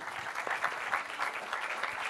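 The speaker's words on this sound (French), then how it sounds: "Je pense qu'on peut les applaudir." An audience at an economic forum on financing the transition applauds two speakers, with steady, fairly close hand-clapping filling the whole short stretch without a break.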